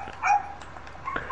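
A dog gives a few short barks and whimpering yips, close and fairly loud, over a low steady background hum.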